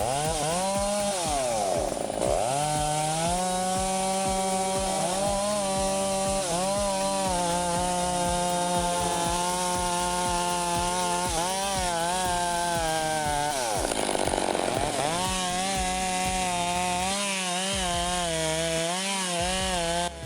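A chainsaw makes the horizontal back cut into a standing tree trunk, its engine droning loud and close with pitch dips and surges as the chain bogs into the wood, then brief pauses near the end.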